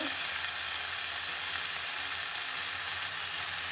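Ground paste of ginger, tomato and green chilli fries in a pan for a green jackfruit curry, giving a steady, even sizzling hiss that holds throughout, with no voices.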